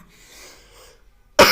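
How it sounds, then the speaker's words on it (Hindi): A teacher's single abrupt, loud cough hits close to the microphone at the end of a quiet moment during a Hindi class lesson. "सॉरी डियर स्टूडेंट्स, थोड़ा खांसी आ गया"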